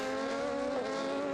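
Race cars at Monza, among them the Iron Lynx Ferrari, roar past at full throttle in a brief, loud, sustained engine howl during a restart battle for third place.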